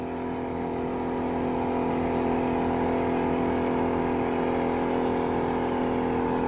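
A 1987 Johnson 40 hp outboard motor runs near full throttle, a loud steady droning whine that holds an even pitch throughout, close and unbroken, with no voices.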